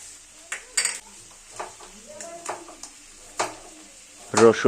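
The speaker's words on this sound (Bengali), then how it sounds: "এবার সমস্ত উপকরণ খুব সুন্দরভাবে মিলিয়ে মিশিয়ে নেব এবং ধীরে ধীরে এটা কষতে থাকব" Ground spice pastes of coriander, dried red chilli, ginger and garlic being mixed and fried for chui jhal chicken, with scattered scraping stirs and soft sizzling, closing in a louder burst of pan clatter.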